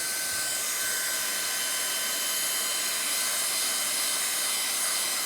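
A heat gun blows a steady, unbroken whooshing hiss of hot air onto a puncture repair patch on a Volvo LM225 backloader tractor tyre, close and constant throughout.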